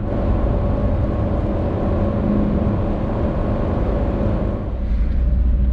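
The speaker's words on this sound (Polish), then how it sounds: "Wprawdzie silnik pracuje już głośniej" A BMW E30 over 30 years old, with a low-power engine, drones steadily from inside the cabin at speed, a loud continuous engine hum and road rumble that fills the space with no voices.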